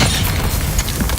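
Descendo spell cast in Hogwarts Legacy, a short heavy boom with a dense crackling burst filling the moment, loud and close against combat noise.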